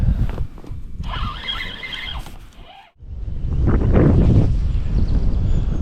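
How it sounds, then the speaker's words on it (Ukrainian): Loud gusting wind at a spring feeder-fishing spot buffets the microphone in heavy roaring bursts, briefly dropping away before surging back even stronger, with a shrill squealing tone early on. "народ роздуває такий шалений вітер"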